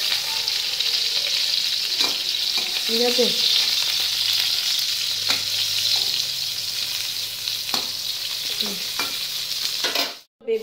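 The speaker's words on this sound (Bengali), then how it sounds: "আর এই যে বেগুন আমি ভাজা করে নিচ্ছি এখন।" Eggplant slices frying in a pan, a steady close sizzle with occasional stirring and scraping, a person briefly speaking, and the sound cutting off abruptly near the end.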